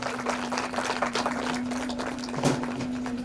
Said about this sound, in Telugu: ఒకసారి గట్టిగా చప్పట్లు కొట్టాలండి.